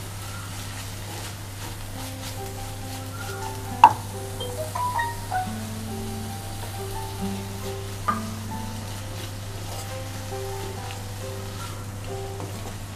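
Tomatoes frying in a pan for a meal maker (soya chunk) curry give a soft, steady sizzle, faint and close, with a few sharp clicks and light stirring knocks over a constant low hum.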